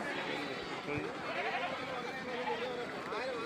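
Young goats bleat amid the crowd at a busy festival goat market in Kerala, their cries mixed into steady chatter and market babble throughout.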